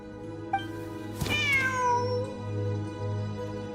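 A cat meows in the Genshin Impact game, one clear drawn-out meow near the middle over a steady low musical hum, with a softer short chirp beforehand.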